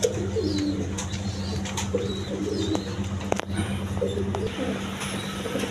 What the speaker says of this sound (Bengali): এখানে এক পেয়ার রেশার কবুতর আছে দেখেন নটটা তো ডাকাটাই করতেছে